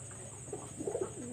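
Khulna high-flyer Pakistani pigeons give a few soft, rolling coos from close by, rising briefly over a steady hum in an indoor loft room.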